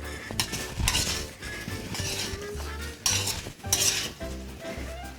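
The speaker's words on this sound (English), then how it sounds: "Make sure you do a toss and turn motion and not a stirring motion as soon as you add the vegetables" Vegetables for a sabzi are tossed in a hot kadai on high heat, with a repeated scraping, clattering rhythm of metal on metal over a soft sizzle, close up, with no talk.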